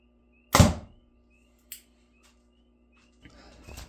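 An arrow loosed from a compound bow with freshly changed strings outdoors, a sharp loud release snap followed about a second later by a brief thunk of impact, then quiet with faint insect or bird sounds.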